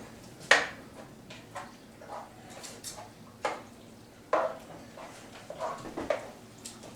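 Stirring and mixing homemade lasagna ingredients in a pan brings soft scraping with a few sharp utensil clinks against the pan, spaced irregularly and fairly faint.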